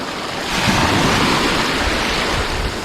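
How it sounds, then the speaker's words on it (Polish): Small waves wash steadily onto an Adriatic sea beach in Slovenia on a summer day, a continuous broadband surf rush with light wind over the microphone and no voices. "Jest piękna woda, nawet zrobiły się jakieś takie fale."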